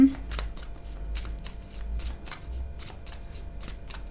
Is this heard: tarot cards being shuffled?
yes